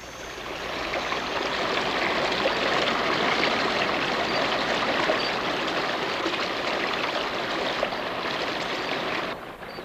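A rainforest stream flows in a continuous, fairly loud rush of running water, steady throughout and heard alone without voices.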